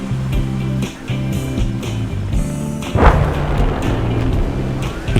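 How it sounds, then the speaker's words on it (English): FPV drone striking an orange boat target on the water at an airshow: engine drone and rumble, then a sharp impact burst about midway, followed by a rougher, noisier wash of sound. "FPV drone has flown by and is going to be striking one of the orange boat targets out in the water."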